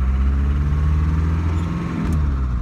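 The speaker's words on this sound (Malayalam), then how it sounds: "എച്ച് എമ്മിന്റെ ആ എഞ്ചിന്റെ ഒക്കെ സൗണ്ട് നൈസാണ്." A 1998 Hindustan Contessa Classic with its 2.0 engine hums steadily while driving, a loud continuous low drone with no voices.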